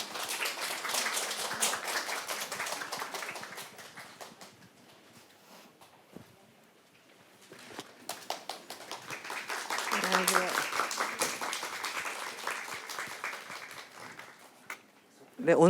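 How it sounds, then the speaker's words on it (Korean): Audience applause in a small theatre before an improvised performance begins: clapping fades after a few seconds, then returns and swells, with a host speaking over parts of it. "그럼 뜨거운 박수와 함께 공연 시작하도록 하겠습니다."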